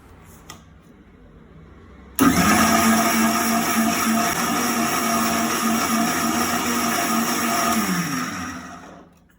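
An electric mixer grinder whirs loudly and steadily as it grinds amboli batter with water. It starts abruptly after a quiet stretch, runs at an even pitch for about six seconds, then winds down and stops.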